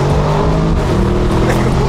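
Widebody Lamborghini Urus engine exhaust rumbling loud and close in a continuous deep burble, with no distinct pops standing out over the short stretch.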